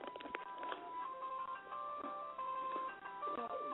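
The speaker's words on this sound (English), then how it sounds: "Are y'all hearing an ice cream truck?" A faint, tinny jingle from a distant ice cream truck drifts in, its thin melody lines wavering steadily in the background.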